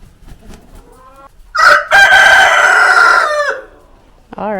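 Rooster crowing loudly and close on a farm in Mexico, one long drawn-out cock-a-doodle-doo, with softer clucking from hens before and a second crow starting at the end.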